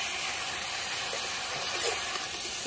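Chopped onion dropped into a hot pan gives a steady, close sizzle and hiss that holds evenly throughout, with no voices.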